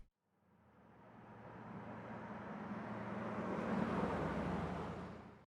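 A soloed synth mids track with a droning, engine-like rumble that sounds much like a passing car. It fades in, swells steadily louder toward the end, then cuts off abruptly.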